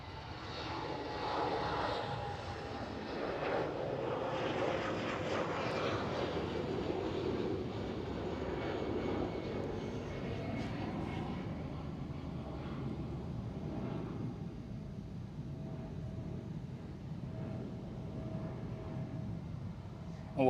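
An EasyJet Airbus A320 jet at Amsterdam Schiphol rumbles at a moderate distance, a continuous engine drone that swells early and slowly fades, with a faint steady whine running beneath it.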